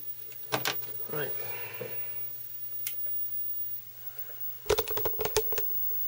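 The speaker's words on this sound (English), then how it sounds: "you can hear the drive clicking away waiting for the disc" An Amiga floppy drive clicks while waiting for a disc, giving scattered sharp ticks at first and then a quick cluster of clicks near the end over a steady low hum, with a voice talking quietly.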